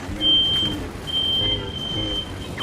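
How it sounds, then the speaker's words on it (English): A fire alarm sounds as a thin, steady high-pitched tone in the background, pausing briefly and then resuming, under low rumbling noise. "Is that a fire alarm?"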